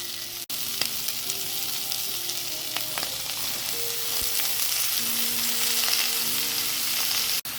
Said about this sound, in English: we're going to add the vegetables and we're going to fry this for about, stir fry it for about 3 minutes